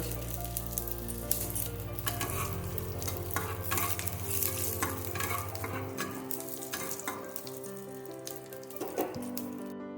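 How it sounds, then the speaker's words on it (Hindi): Half a spoon of cumin seeds frying in a pan over medium flame, crackling and popping in quick irregular bursts over a continuous soft sizzle, with occasional utensil taps. "आधा चामच जीरा मैं देली फुटे"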